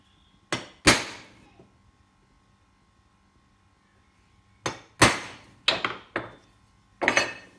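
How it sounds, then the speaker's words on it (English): Sharp metallic hammer taps on a centre punch: two close strikes, a pause, then a cluster of four or five quick hits, fairly loud and near. "I've got a centre punch and a hammer, and I'm finding the black dot."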